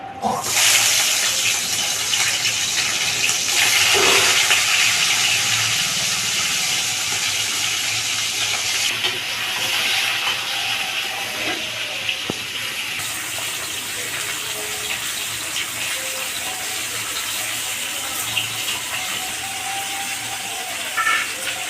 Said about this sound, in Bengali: এই যে রুই মাছের মাথা নুন হলুদ মাখিয়ে রেখেছি, এটা এবার ভাজবো।